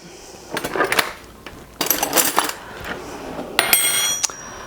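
White flour mixed for bread in a bowl: three close, separate bursts of scraping and bright metallic clinks from a utensil against the bowl, with quiet pauses between them.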